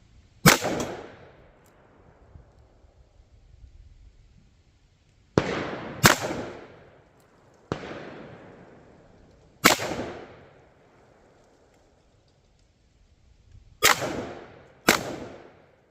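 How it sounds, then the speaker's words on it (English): Six sharp, loud gunshots from a Taurus 605 .357 Magnum revolver fired one-handed with Federal ammunition, spaced irregularly and each followed by a short decaying echo, with no talking. "I'm gonna go try some one-handed shots"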